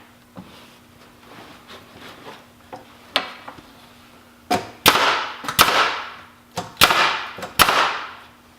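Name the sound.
finish nail gun firing while assembling a work bench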